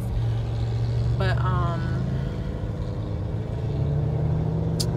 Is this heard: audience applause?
no